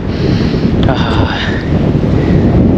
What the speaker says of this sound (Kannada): ಏನು ಗಾಳಿ ಬರ್ತಾಯಿದೆ ಗೊತ್ತಾ